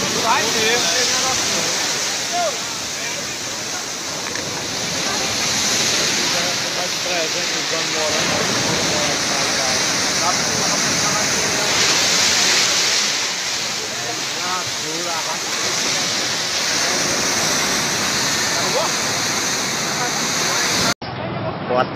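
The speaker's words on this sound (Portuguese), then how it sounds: "filmando aqui a ressaca do mar na praia de Caiçara do Norte. O mar está passando para a rua" Storm-surge sea waves crash onto the beach and spill into the street at Caiçara do Norte, a loud, continuous roaring wash of surf with a voice talking over it throughout.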